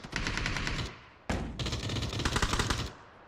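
Automatic gunfire in a first-person shooter video game during a ranked match, two loud sustained bursts with a brief gap between them, no talking.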